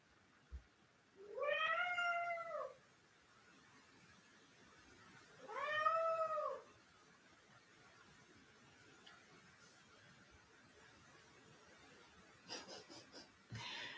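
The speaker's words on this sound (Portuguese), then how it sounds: "O gatinho tá me chamando aqui" A pet cat meows twice, each call loud, close and drawn out with a few seconds of quiet between them, followed by a brief soft rustle near the end.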